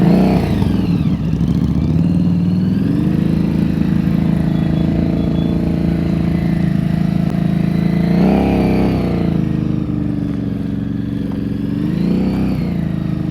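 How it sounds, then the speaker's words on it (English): A motorcycle engine runs close by during slow-speed riding practice, holding a steady low idle-like drone with a few brief revving swells as the rider throttles up and back. "You hear his engine, right?"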